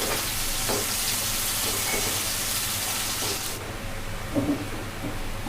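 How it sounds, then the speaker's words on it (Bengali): Chopped onions hiss and sizzle steadily in hot oil in a pan, close and constant, with a few soft stirring scrapes and a dip in the crackle partway through. "আমার পেঁয়াজ ভাজি হয়ে গেছে"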